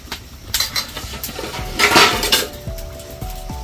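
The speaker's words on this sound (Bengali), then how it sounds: "এটা একটু ঢাকা দিয়ে একটু কষিয়ে রান্না করে একটু নেড়ে চেড়ে দিই" Palak paneer gets stirred in a metal cooking pot and covered, with clanking spoon strikes and scraping against the pot, a louder rattling burst midway, then a lid settling with light taps, close and without speech.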